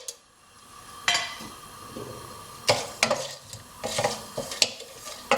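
Whole spices drop into hot ghee in a pan and get stirred, giving a soft sizzle broken by several sharp clinks and scrapes of the spoon against the pot.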